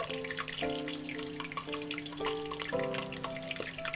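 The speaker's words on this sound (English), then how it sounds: "You should hear a sizzling sound when stirring with chopsticks." Cabbage balls frying in hot oil while chopsticks stir them, a continuous bubbling sizzle with steady crackle under overlapping tonal sounds, close and moderately loud.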